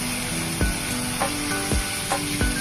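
Spice masala fries in a pan with a soft, steady sizzle, broken by several evenly spaced scraping knocks as a spoon stirs it.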